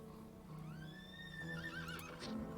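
A horse neigh sound effect, one drawn-out whinny that rises and wavers before trailing off, layered over steady low background music.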